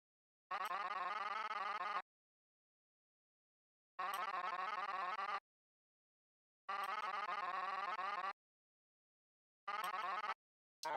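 Animalese-style garbled voice babble from the indie video game Horns of Fear, coming in four separate bursts of rapid, chirpy syllables, each about a second and a half long, with silence between them.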